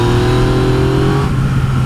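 Yamaha XSR900 motorcycle with its CP3 three-cylinder engine running steadily on a ride, a loud continuous drone with strong low harmonics that eases slightly after a moment, heard alone.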